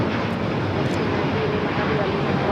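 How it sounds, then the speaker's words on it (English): A China Airlines Airbus A350-900 jet takes off at LAX, a steady broad jet roar holding loud and even throughout, with a faint voice over it. "That was China Airlines Flight 5 taking off to Taipei on the A350-900 in the carbon fiber Airbus livery"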